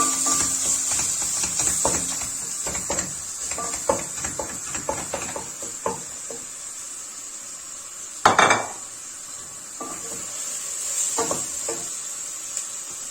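Onions sauté in a pan, with a steady soft sizzle under repeated scraping and clinking as a spoon stirs them, and one louder clatter midway through.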